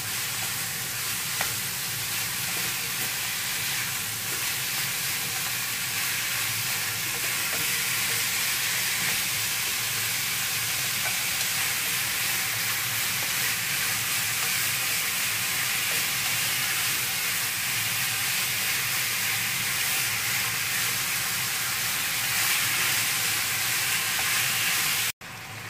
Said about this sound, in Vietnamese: Mình xào thịt bò mình phải cần lửa lớn